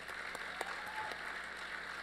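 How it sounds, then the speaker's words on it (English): Faint, distant round of applause from an audience at a technology recognition luncheon, soft scattered clapping with a few sharper claps standing out. "Please give Mr. Clark another big round of applause"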